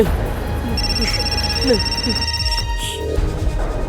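Mobile phone ringing with a call from a mother, a sustained electronic ringtone tone under overlapping speech and background music, near and moderately loud.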